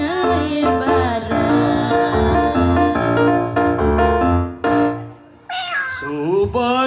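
A voice imitates a cat's drawn-out meows within a Balinese comedy song. The loud, tonal, wavering calls ride over a steady musical backing, with one short pause near the end.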